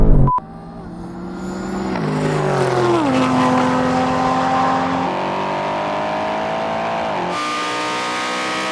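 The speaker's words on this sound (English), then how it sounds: "It had a really good launch and then it just cut everything with a little bit of wheel spin." A lightweight supercar launches hard from a standstill with a little wheel spin in a race against a heavy wagon: a sharp initial bang, then a loud, close engine roar climbing in pitch through quick gear changes.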